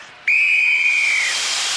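A referee's whistle blown to start an event on the 1992 UK Gladiators, a single loud, sustained shrill blast lasting about a second with no voices around it.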